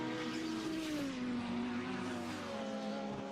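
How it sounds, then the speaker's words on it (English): A race car in a DTM racing video game braking hard, its engine note dropping in pitch as it slows, steady and loud with a faint tire squeal and no speech. "Now it's heavy braking yet again."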